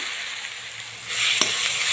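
Dal baati ingredients roasting in a pan on low heat give a steady close sizzle that grows slightly louder partway through, with a single soft stir or scrape near the end.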